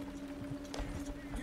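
Horse hooves clop in a quick, steady rhythm on a road in the video game Red Dead Redemption 2, fairly soft beneath a low ambient hum.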